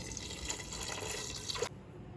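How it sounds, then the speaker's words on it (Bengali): Water is poured from close by into a pot of chana dal seasoned with salt and turmeric, a steady splashing trickle that stops abruptly near the end. "আমি আন্দাজ মতো জল দিয়ে দেব"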